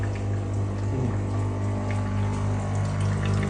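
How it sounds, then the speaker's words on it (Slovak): A Dr. Coffee C12 coffee machine pushes hot water through its milk tube in a cleaning flush, giving a steady pump hum with continuous gurgling, hissing water flow, close and even throughout with no talking. "Stroj vlastne vytlačí to mlieko z tej hadičky, čiže zostane to potom čisté."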